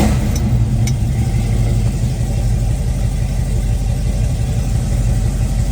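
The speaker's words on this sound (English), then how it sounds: "Let's give it a little fire up here. This is going to be a cold start." A 1973 Plymouth Cuda with a 440 engine runs after a cold start, giving a steady, loud, low rumbling idle close by with no talk.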